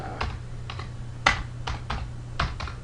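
Keys tapped on a computer keyboard while coding in an editor: about eight separate, close keystrokes at an uneven pace over a low steady electrical hum, with no speech.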